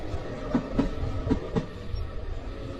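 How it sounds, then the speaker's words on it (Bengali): A train running along the rails toward a station platform, several clear wheel clacks at an even rhythm standing out over a steady rumble as it slows, with no voices. "ট্রেনটি ধীরে ধীরে শান্ত হয়ে একেবারে প্ল্যাটফর্মে এসে দাঁড়িয়ে পড়ল।"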